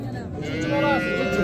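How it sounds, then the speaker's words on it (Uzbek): Cows lowing at the Rishton livestock market, a sustained close moo rising over a steady crowd murmur with people talking nearby. "Mana sigirlar xullas"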